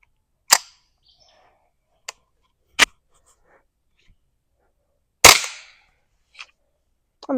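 Suppressed Ruger 10/22 takedown rifle with an Angstadt Arms Vanquish barrel firing Federal Gold Medal Target rounds at a metal target: five sharp, separate cracks spread unevenly across the stretch, with quiet gaps between them and no talk.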